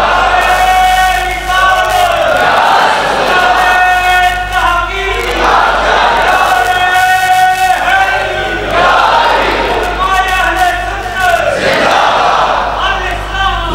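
Large crowd at an Islamic religious gathering chants slogans in unison, with loud massed voices rising and falling in repeated rhythmic waves throughout.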